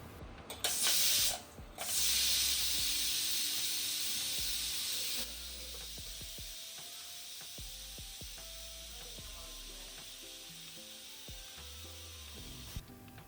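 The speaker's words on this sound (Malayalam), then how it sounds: "ഒരു വിസിൽ കൊണ്ട് നമുക്ക് വേവിച്ചെടുക്കണം." A pressure cooker whistle releases steam while tapioca cooks, a loud hissing burst at the start that holds steady for several seconds, then drops to a quieter hiss with faint kitchen clatter beneath.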